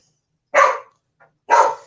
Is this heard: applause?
no